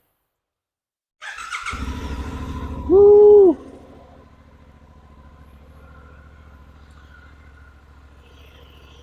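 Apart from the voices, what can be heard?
Suzuki parallel-twin motorcycle engine revving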